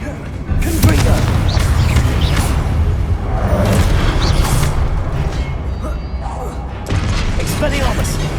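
Confringo fire-blast spells in the Hogwarts Legacy video game, dense booming combat bursts layered over continuous battle noise, with voices shouting throughout.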